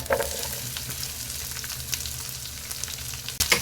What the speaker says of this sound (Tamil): ஒரு வெங்காயத்தை இப்போ நம்ம ஈரல் வதக்கும் போது போட்டு வதக்கிடலாங்க